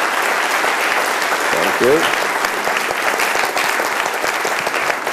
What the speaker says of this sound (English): So let's give a big round of applause for our panelists.